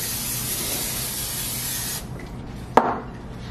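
A continuous close hiss of aerosol cooking spray greasing a pan for about two seconds, then it stops, followed by a single sharp knock and quieter background.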